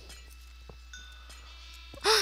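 A baby sheep in the Minecraft video game gives a short, bright bleat at the end, following a quiet stretch of faint game sounds and soft clicks.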